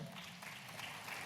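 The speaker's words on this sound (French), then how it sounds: "on vous applaudit." Faint applause from an audience at an economic forum on working-class neighborhoods, a short steady patter of clapping heard at a distance.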